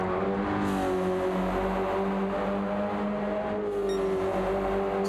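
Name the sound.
Subaru BRZ race car engine in racing video game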